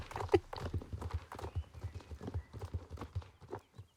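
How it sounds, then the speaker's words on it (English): Horse hooves clattering across a riding arena roof in the online game Star Stable, a steady galloping clip-clop rhythm close by, with soft game ambience underneath. "I like the sound running across the roof."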